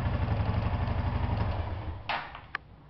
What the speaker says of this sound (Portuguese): Um barulho como se fosse alguma coisa martelando.